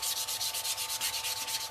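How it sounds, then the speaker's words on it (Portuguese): Sandpaper rubbed in quick back-and-forth strokes over a white-painted MDF piece to give it a wood look, a close, steady, rhythmic hissing scratch. "Eu vou dar uma lixada pra vocês verem aqui nessa peça como é que fica"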